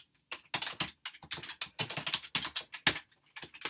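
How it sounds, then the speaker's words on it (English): Loud, close typing on a big keyboard in quick irregular bursts of clacking keystrokes, with short pauses between flurries and no voices. "Sorry for my noisy typing."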